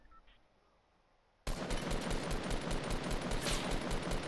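Rapid automatic gunfire in Fortnite Battle Royale near a shipping yard's red containers bursts in suddenly after near-silence and rattles on continuously and loudly to the end, with no talking.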